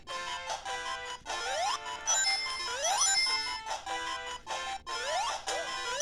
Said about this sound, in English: So it loads up Sonic the Hedgehog.